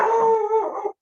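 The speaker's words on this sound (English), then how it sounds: "sorry about my dog" A dog gives a single short, loud, close howling bark that lasts under a second.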